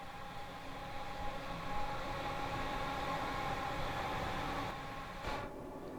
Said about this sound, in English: Very good sounding train this as well.